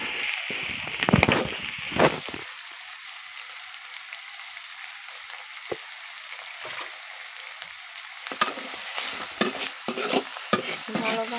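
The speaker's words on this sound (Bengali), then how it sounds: "ভালোভাবে ভেজে নিতে হবে।" Dried fish bharta with added salt frying in a pan at home, a loud stirring scrape near the start, then a faint steady sizzle with scattered spoon clicks and a louder burst of stirring near the end.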